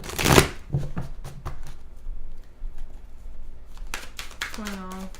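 A quick riffle of cards being shuffled, followed by a few soft taps and clicks, then a person briefly speaks.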